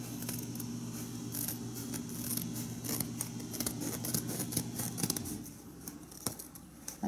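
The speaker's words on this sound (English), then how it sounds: "I'm just going to cut this to make it easier to work with." Scissors cut paper into 4 by 4 squares, a quick run of crisp close snips and slicing strokes that thins out near the end.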